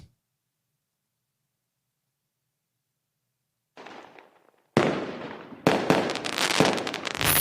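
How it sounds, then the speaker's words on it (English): A fireworks sound effect starts after a long silence: a soft crackle, then loud booming bursts and dense crackling that carry on to the end. "let me give you some fireworks too"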